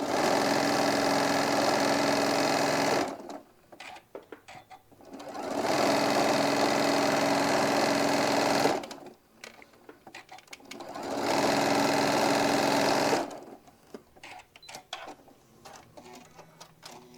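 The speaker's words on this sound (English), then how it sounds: "Kind of pinching it, holding it, and sewing that 1/4 of an inch." Sewing machine stitching a quarter-inch seam on a hobo bag, running in three steady bursts of fast close stitching, each followed by quiet pauses with small handling clicks and rustles.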